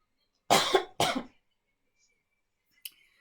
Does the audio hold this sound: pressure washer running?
no